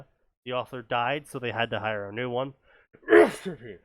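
A sudden sharp sneeze bursts out near the end, right after a stretch of someone talking, loud and close.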